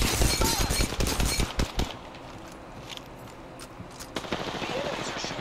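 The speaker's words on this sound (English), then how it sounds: "The enemies are shooting at me." Enemy gunfire from the Apex Legends video game, a dense burst of rapid automatic shots up front, then quieter scattered cracks and a short later burst, with game noise underneath.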